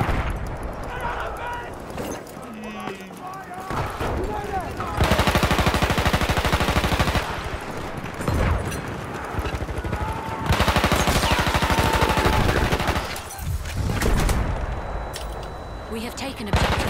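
Rapid gunfire in a shooter video game, with dense automatic bursts and scattered shots going on throughout at steady loudness, mixed with game sounds and faint voices.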